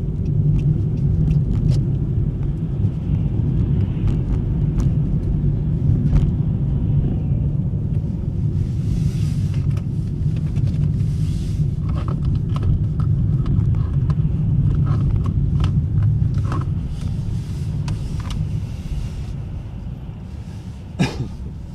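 A car driven by a learner under a driving instructor's guidance speeds up on a road, its engine a steady low rumble and road noise filling the cabin throughout, with a few faint clicks and small sounds inside.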